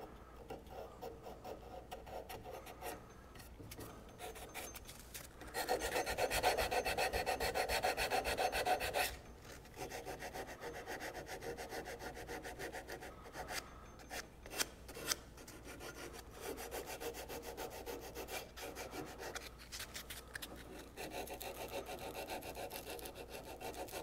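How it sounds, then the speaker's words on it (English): Small needle files rasp against the wood of a hand-crafted thoroughbred rocking horse in close, repeated rubbing strokes, with a louder, denser burst of filing partway through and quieter scraping before and after. "this might be really good to use my little needle files"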